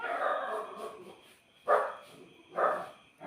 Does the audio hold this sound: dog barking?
yes